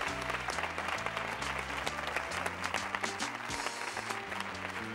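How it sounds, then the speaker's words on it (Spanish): A TV studio audience at a Spanish game show applauds in tribute, steady dense clapping that holds for the whole stretch over a loud band playing with a strong bass line. "este aplauso de homenaje del público"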